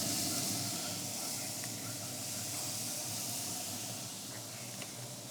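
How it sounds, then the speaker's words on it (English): Smash burger patties sizzle on reverse grill grates with a steady, close hiss that holds throughout, faint crackles popping above it. "Hear that sizzle."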